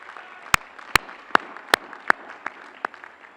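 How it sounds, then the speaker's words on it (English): About eight sparse, separate hand claps ring out in an otherwise hushed hall at the Bergen Community College 2016 commencement ceremony, spaced unevenly and moderately loud. "The talented faculty and staff at Bergen Community College deserve a big round of applause for their commitment to your success."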